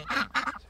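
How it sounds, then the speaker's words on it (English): Ducks on a small backyard flock give a couple of quick, nasal quacks close by, two short bursts with a brief gap between them. "But the ducks are doing well."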